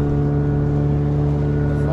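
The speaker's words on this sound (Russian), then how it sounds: "Продолжаем обкатывать мотор." A boat outboard motor being run in drones loud and close at a steady pitch, a constant low hum with rich harmonics and no change in speed.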